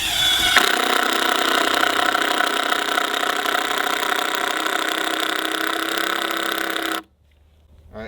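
Makita 18V brushless impact driver running at medium speed, a loud, continuous rattling hammer-whine held for about seven seconds before cutting off abruptly.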